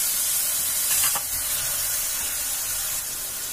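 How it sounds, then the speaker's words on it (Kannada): Fresh green peas fry in a pan with tomato, giving a steady soft sizzle and hiss up close, with a brief louder burst near the start and then an even, continuous frying sound. "ನೆಕ್ಸ್ಟು ನಾನು ಅದಕ್ಕೆ ಹಸಿ ಬಟಾಣಿ ಕಾಳು ಹಾಕ್ಕೊತಿದ್ದೀನಿ."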